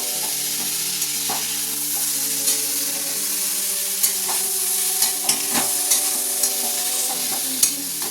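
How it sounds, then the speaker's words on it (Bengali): Beetroot and capsicum stir-fried in a pan for a vegetarian chow mein: a loud, steady sizzle runs throughout, broken by occasional sharp scrapes and clicks of stirring, with no voices. "এবার এটাকে হালকা করে ভালো করে নেড়ে নেবো।"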